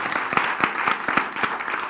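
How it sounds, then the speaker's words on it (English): Brief applause for a panelist at a live arts education show in Milwaukee, a short run of loud, close claps in an uneven rhythm. "Round of applause for Vedale."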